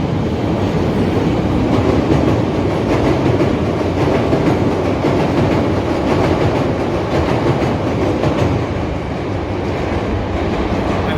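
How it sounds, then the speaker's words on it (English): An elevated train rumbles past in downtown Chicago, loud and continuous with steady clatter of wheels on track for the whole stretch, close to a street-level listener. "Oh, there's another train coming."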